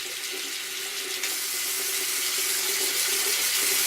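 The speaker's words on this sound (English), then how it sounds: "I need some warm water, not hot, not tepid, but warm water." Warm water runs steadily from a tap into a sink, giving a close, continuous hissing splash that grows slightly louder after the first second, with no voices.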